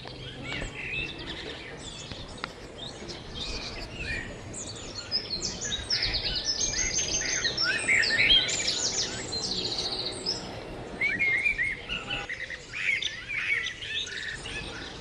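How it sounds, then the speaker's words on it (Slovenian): Hungry pigeons gather at feeding time on the street, and a dense, continuous chorus of close bird chirps and squawks rises and falls without speech. "To so moji lačni otroci, kjer imajo zdaj svojo hrano in zdaj je čas za hranjenje. Samo to so golobi."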